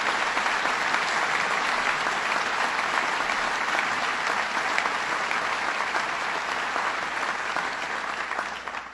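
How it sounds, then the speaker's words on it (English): A large audience applauding at a cancer institute re-accreditation ceremony, a loud, continuous wash of clapping that holds steady for the whole stretch and thins slightly at the very end. "Let's give them a round of applause"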